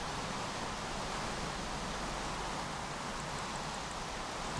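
Steady rainfall in Minecraft, an even, continuous hiss of falling rain at low volume with no talking.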